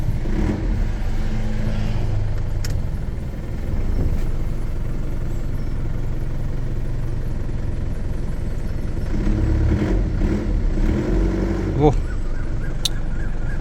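A four-door Isuzu D-Max pickup truck engine starts and idles steadily with a low rumble, with a few clicks and brief revs, while someone talks over it.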